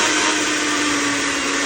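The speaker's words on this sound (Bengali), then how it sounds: "ব্লেন্ডার করে দিলাম।" A blender runs at full speed mixing a watermelon milkshake, a loud, steady motor whine with a constant grinding roar, close and uninterrupted.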